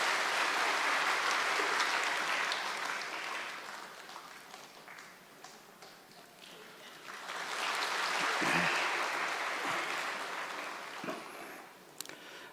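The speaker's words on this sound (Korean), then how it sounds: "우리 박수로 이 아이를 축복합니다" A church congregation claps together in a sustained round of applause indoors during a Sunday service, fading midway then swelling again before tapering off.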